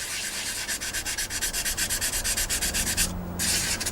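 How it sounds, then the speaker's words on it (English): Wet sanding of a 1/48 scale Tamiya P-51D Mustang plastic model kit with a medium grit sanding stick makes close, rhythmic back-and-forth scrubbing strokes, steady and fairly loud, pausing briefly near the end. "after that medium grit sanding stick."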